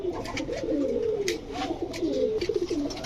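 A red patti male pigeon coos nearby in soft, repeated rolling calls over faint background bird chatter, without any voices.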